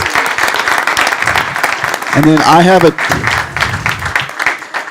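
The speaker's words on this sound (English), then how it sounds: "So round of applause for everyone." Town council meeting audience applauding award winners, a loud steady wash of clapping with someone speaking briefly over it midway.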